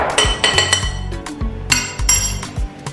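A utensil mixes flour with black pepper and salt in a bowl as a dry coating for BBQ wings. Bright, rhythmic clinks and taps ring against the bowl, close and clear, several strokes in quick succession.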